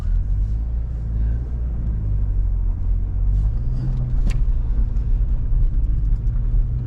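A 1990 Ford Probe GT with the 2.2 turbo engine revs from a steady low rumble, the engine note climbing and swelling briefly midway before settling back, loud and close throughout with no talking.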